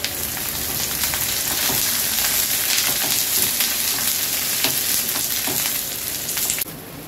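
Onion and raw brinjal fry in a pan with a loud, continuous sizzle and crackle. The sound stays close and steady, then drops off slightly near the end.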